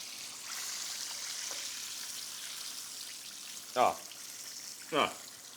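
Flour-coated fish fries in hot oil for Cajun po' boys, making a faint, even hiss throughout. Two short, louder higher-pitched sounds break through near the end.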